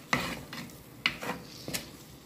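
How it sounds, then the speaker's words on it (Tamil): A spoon stirs chili powder, pepper powder and turmeric together in a bowl, making three quiet scraping, clinking strokes spaced about half a second apart, with no voices. "இதை நாங்கள் நல்லா மிக்ஸ் பண்ணணும்"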